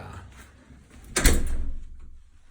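A solid oak secondary apartment door swings and shuts with a single close, heavy thump and brief rattle, then the room settles quietly.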